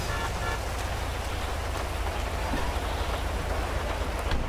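Steady rain pours in GTA 5 during a thunderstorm in Senora, a dense, even hiss of drops on surfaces with a low rumble underneath, loud and unbroken throughout.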